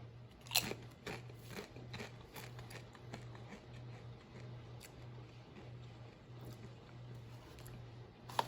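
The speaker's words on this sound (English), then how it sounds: "But let's give it a crunch." A yellow, Dorito-like spicy chip snack is crunched and chewed close to the mouth, giving a steady run of crisp, faint crackles over a low background hum with no talk.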